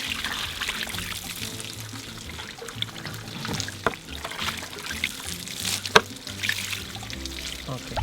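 Water pours and trickles steadily from a tap as fish is rinsed and washed for a Yucatecan tikin xic, with splashes and small knocks against the sink, close and continuous.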